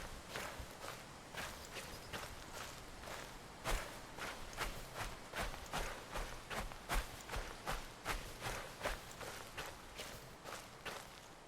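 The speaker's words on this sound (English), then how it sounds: "I'm only hearing footsteps" Steady footsteps walk across the ground in Slender: The Arrival, an evenly paced run of crisp steps heard close up over a low ambient hum, with no one talking.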